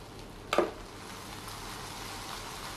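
Garlic rice pressed down in a waffle iron gives one sharp burst as the lid presses, then settles into a soft, steady sizzle close by.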